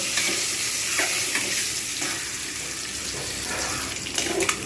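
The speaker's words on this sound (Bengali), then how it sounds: "হলুদ দিয়ে দেবো লালচে করে ভেজে নেব" Frying with turmeric in a pan, a loud continuous sizzle close up with occasional utensil scrapes and brief clinks as it is stirred, no one talking.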